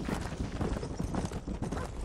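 Horse hooves clip-clopping in the Western video game Red Dead Redemption while herding animals into a pen, a quick steady trotting rhythm of dull thuds, fairly close and moderately loud, with no talk.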